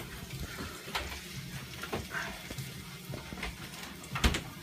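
Water poured into a blender holding tomatoes, garlic cloves and onion, a quiet splashing trickle with small clinks and knocks from the jar, soft and close, with no talk.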